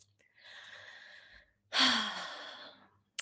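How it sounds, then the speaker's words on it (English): People at an event take one shared breath before a prayer: a long, soft inhale followed by a fuller, louder exhale that fades out, close and alone with no talk. "Let's take a breath together."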